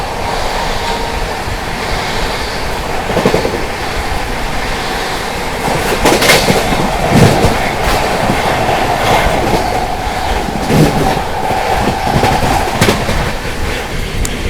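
Amrit Bharat Express (22361, to Patna) runs through Bharatna station without stopping in heavy rain, a loud continuous rolling roar with wheel clatter and passing clanks that surge and fade, with no voices.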